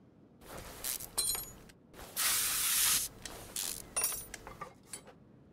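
In the video game Car Mechanic Simulator 2021, spray bursts hiss out in short separate puffs and one longer steady blast, each with sharp clicks and rattles between them, close and clear.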